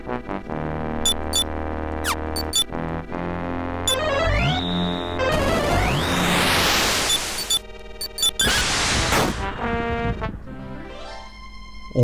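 Boss battle music from a Dragon Quest video game: dense electronic melody and chords with sweeping rises and abrupt stops, loud and busy throughout.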